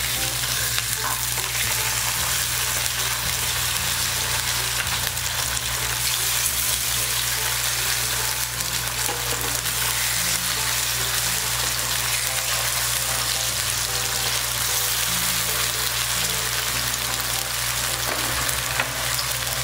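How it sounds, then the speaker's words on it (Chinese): Radish cake pan-frying in a wok gives a loud, steady, continuous sizzle and crackle close up, with a low hum underneath and no talking. "再煎一分半钟。"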